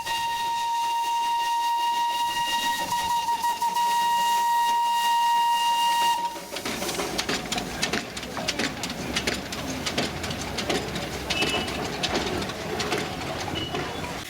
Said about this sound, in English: Here's our little train coming up